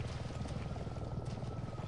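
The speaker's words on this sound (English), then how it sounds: "Is that a helicopter?" A helicopter in the Resident Evil 7 video game, its rotors giving a steady, low, pulsing thump that stays faint and constant throughout.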